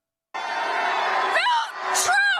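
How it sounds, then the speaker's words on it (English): A Philadelphia crowd boos loudly and steadily, a dense sustained roar of many voices that swells and dips over a couple of seconds, heard up close with no quieter gaps. "They're booing him."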